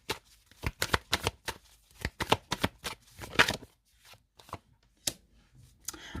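Tarot cards are shuffled and slapped down on a table one after another in a quick, uneven rhythm of crisp close flicks and taps, with a short lull before a few final placements and no talking.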